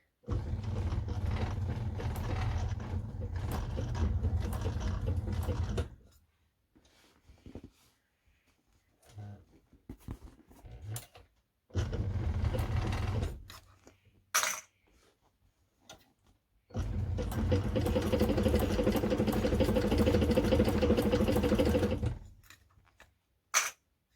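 A Cowboy CB6900 sewing machine runs in three bursts of steady, fast mechanical stitching during top stitching, separated by quiet pauses with scattered clicks and handling noises.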